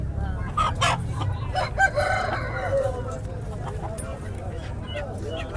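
A rooster crows and chickens cluck nearby while people talk over steady background noise at a Friday poultry and bird market in Quetta, Pakistan.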